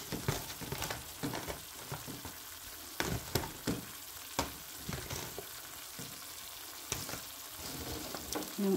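Zucchini and other vegetables sautéing in a pan, a continuous close sizzle broken by scraping stirs and clinks of a utensil against the pan.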